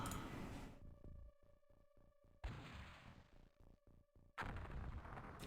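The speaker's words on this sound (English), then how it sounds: "It's hard to miss with a rocket launcher." Rocket launcher fire in the MS-DOS game UFO: Enemy Unknown: loud broadband blasts at the start, around 2.4 s and at 4.4 s, with pulsing electronic tones in between, no talk.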